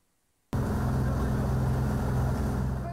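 A motorboat engine starts abruptly after a moment of silence, then runs at a steady, loud drone close by on the river during an inspection of a hydroelectric dam's concrete structures.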